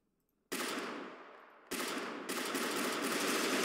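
Pistol fire in the video game Peripeteia, heard after a moment of silence as a sudden loud burst of rapid shots, then a second abrupt volley that continues dense and sustained to the end.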